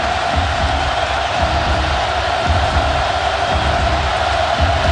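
A packed Penn State football stadium crowd roars during a game against Alabama, a broad, steady wall of cheering with no break across the moment.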